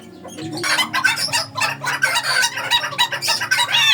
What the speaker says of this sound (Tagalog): At meron ding white jungle fowl. Meron ding gray jungle fowl.